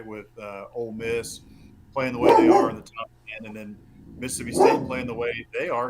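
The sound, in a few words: dog barking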